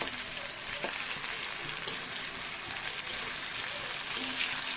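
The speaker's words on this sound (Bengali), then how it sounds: "তেজপাতা কাঁচামরিচ সব কিছু দিয়ে আমি খুব ভালো করে একটু ভেজে নেব" Spices and meat fry in mustard oil with a dense, even sizzle close by, broken by an occasional light utensil tap, without any speech.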